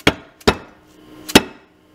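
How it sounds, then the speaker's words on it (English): A hammer strikes a metal bracket to free a stuck sleeve from a bolt on an EZGO golf cart leaf spring: three sharp, close, ringing blows, two in quick succession and a third after a short pause. "you want to keep hitting that bracket until the sleeve can come off"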